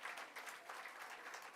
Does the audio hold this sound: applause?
yes